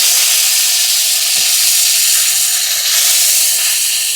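Snakehead fish frying in a very hot kadai give off a loud, continuous, dense sizzle that stays steady and close throughout, with no voices.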